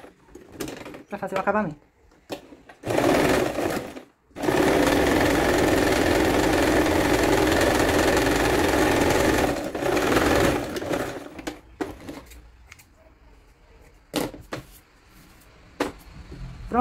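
Close-up bursts from a sewing machine stitching a zigzag on a small doll witch hat: a long steady mechanical run followed by shorter bursts, with someone speaking softly between and over the stitching.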